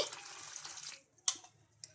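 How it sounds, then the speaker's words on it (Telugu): Water splashes and gushes briefly into a container, then stops, followed by a couple of faint drips and taps. "మంచి నీళ్ళు అయితే మునిగే వరకు వాటర్ అయితే వేసుకోవాలి"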